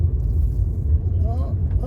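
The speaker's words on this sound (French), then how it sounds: "Voilà, la voiture qui descend." A car rolls down a street, its low engine rumble and road noise close and steady, with someone talking over it.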